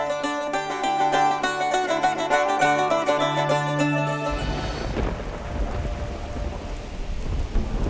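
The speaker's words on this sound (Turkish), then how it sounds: "Bir anda nasıl da yağmur bastırdı." Sudden heavy rain shower breaks in with a deep thunder rumble, replacing the music heard at the start and continuing as a dense, steady downpour.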